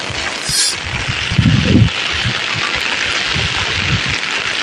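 Rain falling steadily during a flood, a dense hiss with gusts of wind buffeting the microphone and a brief louder rumble, no speech.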